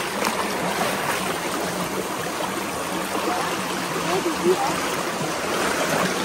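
A cold, fast-running stream during a crab hunt gives a constant rushing, trickling wash of water, close and steady, with muffled voices faintly mixed in.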